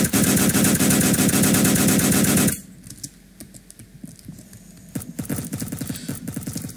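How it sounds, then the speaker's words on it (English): A sniper opens fire in the Roblox video game, a loud rapid burst of shots for a couple of seconds, then scattered sharper cracks and clicks at lower level. "Oh, no, he's shooting me."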